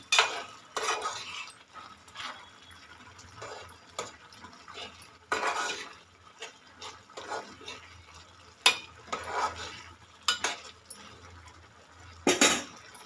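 Spoon stirring egg curry in a pan after garam masala of coriander powder, cloves and cardamom goes in, with repeated scraping and clinking bursts over a faint sizzle, close and moderately loud.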